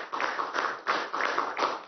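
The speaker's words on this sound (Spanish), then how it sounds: "un aplauso nuevamente al general en jefe" Applause for the general in chief at a Venezuelan state address, rhythmic clapping in short pulsing bursts, fairly close and thin-sounding, with no voices over it.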